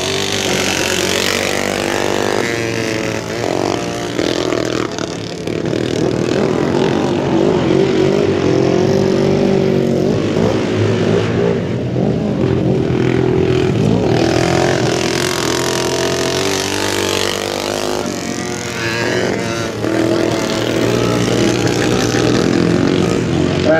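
Yamaha 250 motorcycles race on a flat track at a 2014 event, their engines making a loud, continuous roar that rises and falls in pitch as the bikes sweep past.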